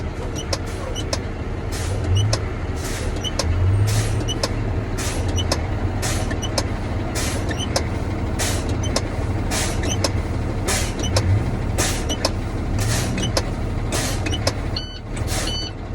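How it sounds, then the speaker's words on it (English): Air brakes on a truck at a Maryland DOT roadside inspection are pumped down in a steady rhythm of sharp, close hisses over a low idling engine, and a brief warning tone sounds near the end. "just go ahead and pump your brakes down until your low air warning comes on."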